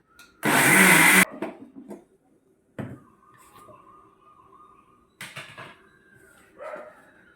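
An electric mixer grinder in a home kitchen grinds soaked rice into fine batter for neer dosa, a loud whirring burst of about a second, followed by quieter clatter and handling sounds of the jar.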